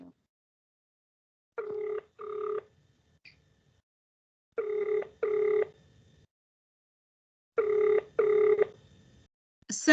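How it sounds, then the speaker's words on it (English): A telephone bell rings in three bursts of two rings each, clear and fairly close, during an online class, with near silence between the bursts and a faint click at the end. "Somebody's phone is ringing."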